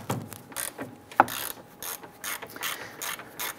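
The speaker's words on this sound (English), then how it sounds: "use our 13 millimeter socket and disconnect, loosen this nut here" A ratchet fitted with a 13 mm socket clicks in short bursts while loosening a nut on a 2002-2008 Dodge RAM, close-up and alone, with a sharp metallic knock partway through.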